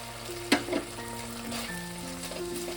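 Chicken wings coated in red chili sauce sizzle steadily in a hot pan, with a sharp clatter of a spoon stirring near the start, then a quieter scrape, and a continuous frying hiss carrying on to the end.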